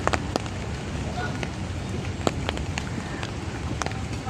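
Steady rain pouring on workers at a barge, a dense hiss with scattered sharp drop impacts and occasional clanks, continuous and close throughout.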